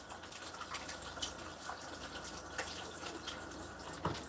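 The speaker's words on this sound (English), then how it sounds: "let me wash my hands again" Hands being washed under a running kitchen tap while cooking, a steady broad gush of water with small splashy bursts, fairly close and moderately quiet, no talking.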